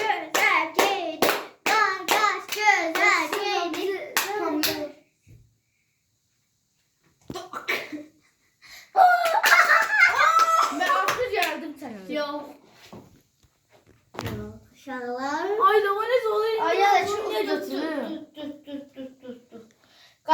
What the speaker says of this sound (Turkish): Kardeşimi alkışlayarak yola salak artık.